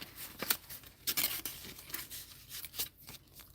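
A sticker packet is sealed and slid into an envelope, with close, quiet bursts of paper rustling, crinkling and a few sharp scraping swipes over a few seconds.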